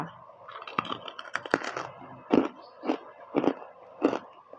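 Crispy baked shiitake mushroom bitten and crunched, a series of sharp crackling crunches at a steady chewing rhythm, close and fairly loud, with no talking.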